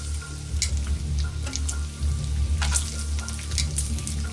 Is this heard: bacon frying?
yes